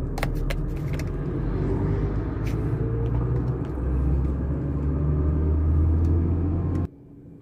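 Road traffic idling at a train crossing in Al Hassa, Dammam, a loud low engine rumble with a steady hum and scattered clicks and rattles, cutting off abruptly near the end.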